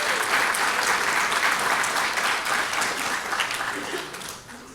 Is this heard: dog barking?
no